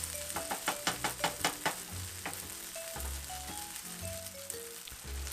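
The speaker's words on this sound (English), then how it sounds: "Then I start making the fried rice." Fried rice frying in a pan, an energetic sizzle punctuated by a run of rhythmic scraping stirs and clacks, then steadier crackling with scattered tonal clinks, moderately quiet and close with no talking.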